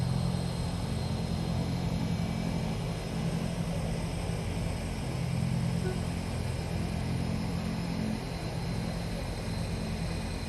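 An aircraft in a flight simulator game takes off from runway 07, its engine holding a loud, steady, close drone for the whole stretch, with no voices over it.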